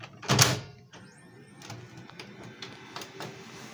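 The left cover door of a Kyocera ECOSYS M4125 multifunction printer pushed shut after cleaning, one firm plastic thud and latch click up close, followed by softer clicks and handling rustle against a low room hum.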